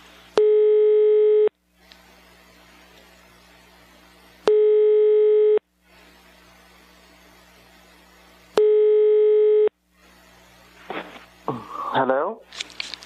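An international phone call rings out toward a random number in Sweden, three long, evenly spaced ringback tones separated by quiet line hiss, followed by rustling handling noise.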